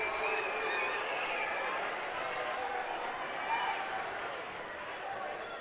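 A packed gym crowd roars steadily through the closing seconds of a high school basketball doubleheader against Meade County, a dense, loud wash of cheering that swells briefly midway, with a commentator's voice likely underneath.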